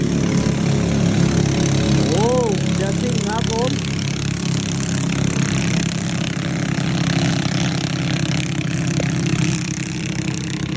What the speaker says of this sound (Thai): เสียงเรืออาจจะลบกว่านิดหน่อยนะครับ